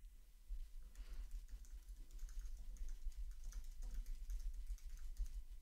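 Keys clatter steadily as a deployment name is typed on a computer keyboard, a quick close-up run of taps over a low background hum, with no one speaking.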